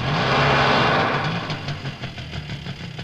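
A scooter engine runs loud and close, swelling at first and then settling into a rougher, pulsing idle.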